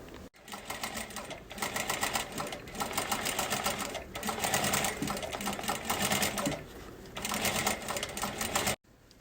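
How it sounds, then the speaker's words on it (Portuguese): A sewing machine runs in steady bursts, stitching through a main fabric and its lining, with brief pauses between runs, close and fairly loud with no talk. "a gente vai passar uma costurinha aqui, ó, daqui até aqui, só pra rebater e prender tecido principal e forro"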